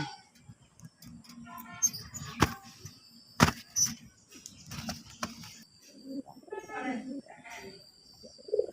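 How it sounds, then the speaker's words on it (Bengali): A male pigeon, one of a pair of large red birds, coos in repeated low bursts close by, with scattered clicks and rustles from the cage around it. "দেখেন অস্থির একটা পাগলা নর কীভাবে ডাকতেছে"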